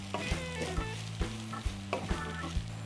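Spatula scraping and stirring rice noodles with chicken and vegetables in a sizzling pan, with steady frying crackle and rhythmic clanks of utensil against metal, close by.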